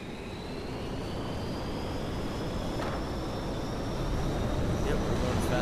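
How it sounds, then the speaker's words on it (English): A torpedo jet in a video game roars down the runway for takeoff, its engine noise a steady broadband rush that swells slightly louder toward the end, with a voice talking over it. "Torpedo jet number one, ready for takeoff."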